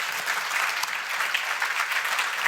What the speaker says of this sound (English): Audience, round of applause for these guys.